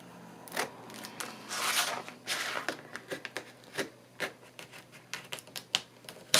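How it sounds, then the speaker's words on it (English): A bone folder pressed and rubbed over a paper cover for a handmade Christmas book, giving close, irregular scraping and crackling strokes with short pauses between them. "Let's get the bone folder and just press it down."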